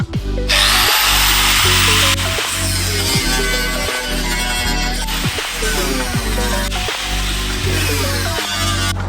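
A power tool cuts a hole for a snorkel through the steel body of a 70 series Landcruiser, a loud, steady grinding whine broken by short rhythmic pauses as the cut progresses, with no talking.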